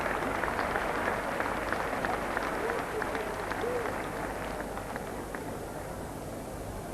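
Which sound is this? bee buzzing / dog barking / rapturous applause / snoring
rapturous applause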